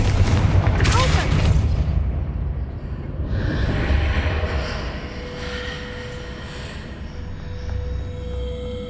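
In Hogwarts Legacy, a Confringo blasting spell explodes a pillar: a loud rumbling blast with heavy crumbling debris that fades into lingering echoes and a thin tone.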